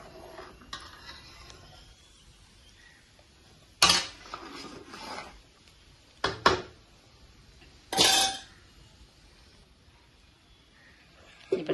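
A spoon scrapes and clinks against a pan while sugar, dal and cashews are stirred together, a few loud metallic scrapes and knocks separated by quieter stretches.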